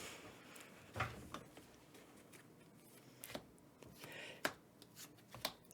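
A deck of playing cards is shuffled by hand, quiet riffles and soft snaps spaced irregularly at close range.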